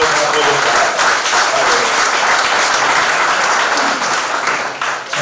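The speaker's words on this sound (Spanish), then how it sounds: "seguro que agradecerá este aplauso" Sustained audience applause fills a political campaign presentation in Madrid for the European elections, steady and loud throughout before easing slightly at the end.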